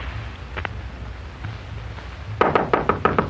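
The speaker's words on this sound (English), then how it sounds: "Then came a knock." Knuckles rap on an office door, first a quick double knock, then after a pause a louder run of five or six firm knocks close by, against a quiet low rumble with no voices.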